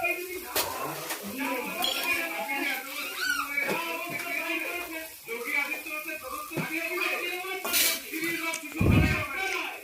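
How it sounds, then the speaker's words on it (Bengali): A spoon scrapes and clinks in a pan of garlic and tomato for besan gatte curry, with a soft sizzle under a steady voice. The stirring strokes come close and irregular, and a few sharper clanks stand out. "ভালো করে নাড়া হচ্ছে, ভালো করে নেড়ে নেওয়া হলো।"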